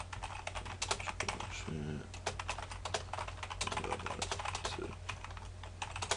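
Rapid, steady clatter of typing on a computer keyboard, close and continuous, with someone talking over it.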